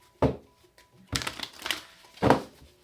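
A tarot deck is shuffled in a few separate close, crisp bursts of riffling cards, quiet pauses between each brief flurry.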